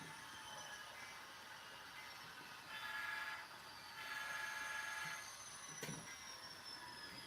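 A small model train motor hums quietly while a faint, steady grinding whine from its rear rises and falls as it runs along the track.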